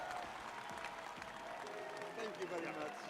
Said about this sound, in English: So I want to ask you to join in on a big round of applause.